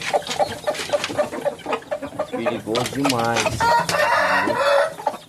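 A sick rooster with a snoring respiratory problem makes close, repeated clucks and strained, raspy calls, while someone talks over it.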